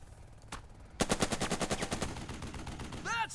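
Rapid machine-gun fire from the Burden of Command game, a rhythmic string of close, loud gunshots starting partway in and running to the end, with a brief shot earlier and a short electronic sweep near the end.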